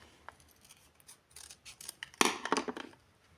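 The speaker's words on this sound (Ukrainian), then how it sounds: "Відкривай пакетик." Scissors snip through a paper packet in a series of quick crisp cuts, faint at first and then louder and denser toward the end.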